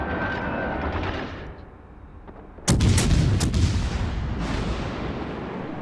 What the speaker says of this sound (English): So there's some more shots at the Nelson.